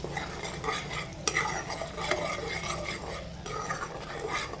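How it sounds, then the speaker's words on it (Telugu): A spoon scrapes and stirs spices and biryani masala through a sizzling pan for egg dum biryani, with repeated rhythmic scraping strokes and a sharp metal clack near the start. "మసాలా మొత్తం కలుపుకోండి"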